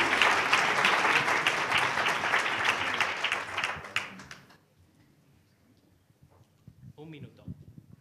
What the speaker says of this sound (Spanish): Pues un aplauso.